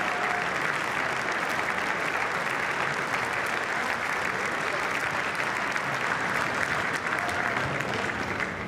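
A crowd in the House chamber claps without pause during a Speaker vote, a thick, even wash of applause with faint voices mixed in underneath.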